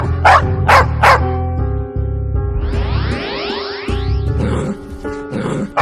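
A dog barks three times in quick succession, loud and close, followed by whining and yipping.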